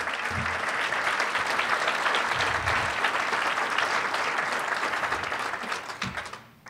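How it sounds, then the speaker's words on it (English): An audience at a Wake Forest Hall of Fame induction applauds hockey alumni, with dense, sustained clapping from a roomful of people holding steady and loud before tapering off at the very end. "Can we please give them a round of applause?"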